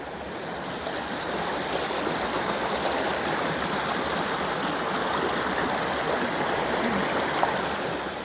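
A strong river stream rushes steadily behind a villa, a loud, dense wash of water that stays close and constant without pause.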